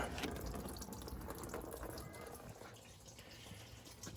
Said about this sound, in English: we're gonna open this valve here. Let that radiator fluid out.